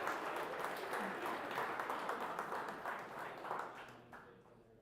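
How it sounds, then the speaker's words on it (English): Steady applause from a crowd at a high school sports awards ceremony, dense clapping that fills the space and tapers slightly toward the end. "One more round of applause, please."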